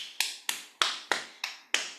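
Six crisp, evenly spaced taps of hands on the body during a guided tapping exercise, close and distinct, each decaying quickly before the next.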